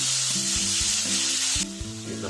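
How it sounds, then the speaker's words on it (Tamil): Chopped onion, garlic and ginger frying in hot oil for a brinjal kuzhambu give a steady, close, crackling sizzle, with faint stirring and a few tonal sounds in the background. "எண்ணெய் காஞ்சிருச்சு, ஆனியன் போட்டுக்கலாம், பூண்டு போட்டுக்கலாம்"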